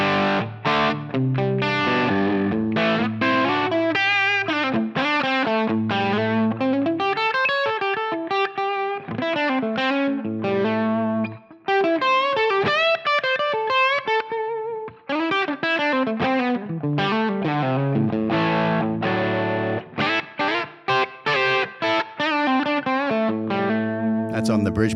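Gibson Les Paul Standard 60s played through its bridge humbucker into a Helix Marshall amp preset, giving a loud, continuous distorted electric guitar riff with quick chugging notes and short melodic runs.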